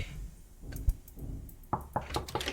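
Knocking on a door in the video game Everylight, a few scattered raps over low ambient noise, closing in a quicker cluster of knocks.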